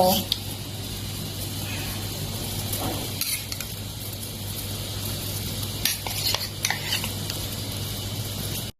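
A pot of tom yum soup with fish roe simmers and bubbles with a steady background hiss, while a spoon scrapes and stirs now and then; someone speaks over it.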